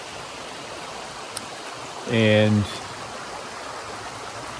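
A creek flows beside tent sites along the Appalachian Trail, a soft, even wash of running water in the background that carries on under a brief spoken word.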